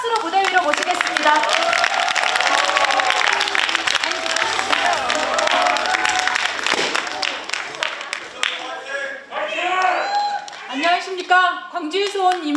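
A political rally audience bursts into loud, sustained applause with crowd cheering that carries on for several seconds before thinning out to scattered clapping under continuing voices.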